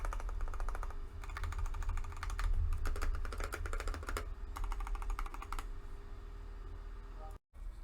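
Mechanical computer keyboard being typed on in fast bursts of dense, rapid clicking with short pauses between runs, close and steady over a low background hum, no talking.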